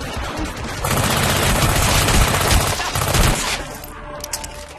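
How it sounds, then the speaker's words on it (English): Gunfire in Hitman: Absolution, a dense sustained burst of rapid shots lasting a few seconds, loud and close, tapering off into scattered pops. "Hey, shoot him in the mouth! Gunfight!"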